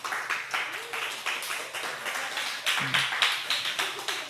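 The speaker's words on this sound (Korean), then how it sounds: "박수." A church congregation applauds with steady, rhythmic clapping that runs throughout, moderately loud and somewhat distant in the room, with faint voices beneath it.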